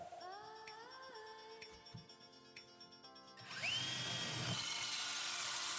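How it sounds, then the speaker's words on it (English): A drill fitted with a 4-inch hole saw spins up with a rising whine, then bites through two stacked hardboard panels with a loud, steady grinding roar that continues to the end. "To cut the opening through both hardboard panels at the same time, I'm using a 4-inch hole saw."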